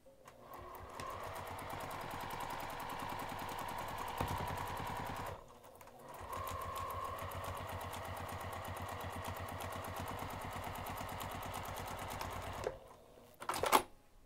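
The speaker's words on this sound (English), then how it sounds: "So I'm going to sew from the top to the line" Sewing machine stitching a seam on a craft bag, steady rapid mechanical whirring in two long runs separated by a short pause, ending with a few sharp clicks, close and alone.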